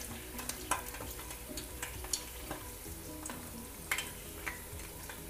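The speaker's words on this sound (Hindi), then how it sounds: "इसी तरह हम सारी ग्रीन चिली फ्राई कर लेंगे।" Green chillies frying in hot oil give a soft, continuous sizzle broken by small pops and the occasional clink of stirring, fairly quiet throughout.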